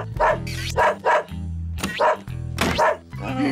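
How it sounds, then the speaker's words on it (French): A cartoon dog barks in repeated loud bursts over music, furious and aggressive, toward a cat at a vet's office. "Il est enragé, votre chien."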